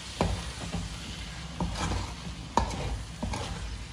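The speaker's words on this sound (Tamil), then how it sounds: "வாட்டி கிண்டி விடுங்க." Pieces of chicken in a frying pan sizzle quietly while a spoon stirs them, scraping and clinking against the pan in several separate strokes over a few seconds.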